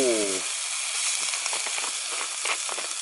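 Water splashed into a hot wok of stir-fried phak nam at a rural hut bursts into a loud, steady sizzle and steamy hiss that carries on unbroken after a brief voice at the start.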